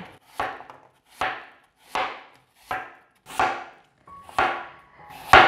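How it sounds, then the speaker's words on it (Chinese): A knife slices an apple into pieces, striking the board in seven sharp, evenly spaced cuts about one second apart. Each cut is loud and close, and there is silence in between. "把苹果切片。"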